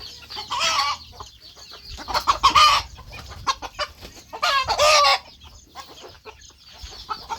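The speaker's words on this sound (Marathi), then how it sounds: "बाहेरच्या कोंबडीसाठी म्हणून ते कोंबडे धावून राहिले आहेत" Chickens on a poultry farm cluck and squawk in loud, close bursts, several excited calls rising over a background of softer scattered clucking and scratching.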